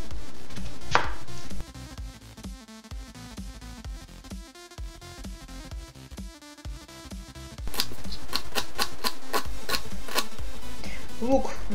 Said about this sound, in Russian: Теперь режем лук.